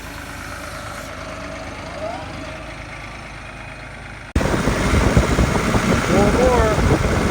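A tractor hauling big round hay bales from a hayfield to a pasture rumbles steadily. Its engine noise jumps sharply louder partway through, as if heard up close or from the cab while driving.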